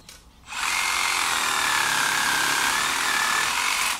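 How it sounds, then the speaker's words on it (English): A reciprocating saw cuts through trees and branches while clearing an abandoned house's yard in Japan, a loud continuous buzzing roar that starts after a brief quiet moment and runs steadily to the end, close by, with no talk. "I cleared the remaining trees and branches, mostly with a reciprocating saw."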